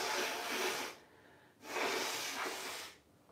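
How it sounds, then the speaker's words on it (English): Two forceful, breathy nose blows, each lasting about a second, separated by a short pause, fairly close and with no talking. "I'm going behind it to blow my nose"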